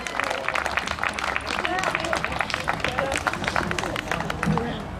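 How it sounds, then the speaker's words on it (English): Audience at a Flushing community meeting on LaGuardia airport noise giving a round of applause for a speaker, a steady patter of many hands clapping with scattered voices and chatter mixed in. "Can we have a round of applause for Susan Carroll?"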